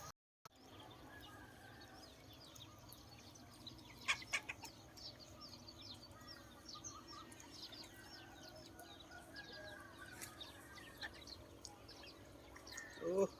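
Chickens cluck and call around a rural Thai yard, scattered soft clucks and chirps running under steady outdoor background noise, with a louder call near the end.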